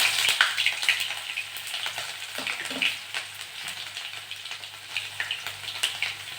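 Garlic sizzling in hot oil with panch phoron, a steady crackling fry with scattered sharp pops and a few louder spits, close up and with no voices.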